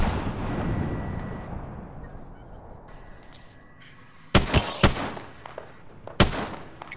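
Frag grenade blowing up in a video game shooter: after a quieter stretch of background rumble, several sharp, loud blasts burst in quick succession, then one more crack follows a moment later, with no talking over them.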